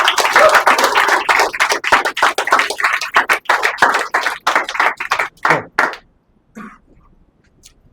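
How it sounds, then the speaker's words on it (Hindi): A small audience claps loudly and briskly, urged on by the trainer at a stage-fear workshop. The dense clapping thins into scattered separate claps and then stops, with a faint voice after it. "ए तालियां बजाओ फटाफट, कम ऑन जल्दी"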